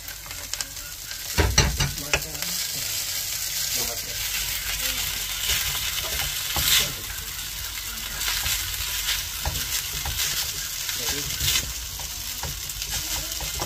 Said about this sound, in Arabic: هي كتشحر مع الشرموله